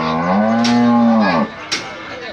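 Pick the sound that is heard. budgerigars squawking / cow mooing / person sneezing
cow mooing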